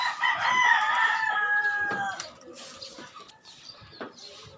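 A fighting rooster gives one loud crow from inside its coop, followed by softer clucks and scattered farmyard noises fading to a quieter background.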